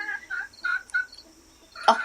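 Several chickens cluck and murmur nearby in short bursts, with a louder squawk near the end.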